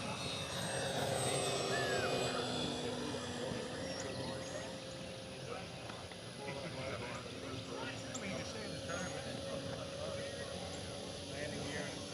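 An E-Flite Carbon-Z Cessna 150T 2.1m RC airplane flies overhead, its steady motor drone distant and continuous at an RC field while onlookers talk over it.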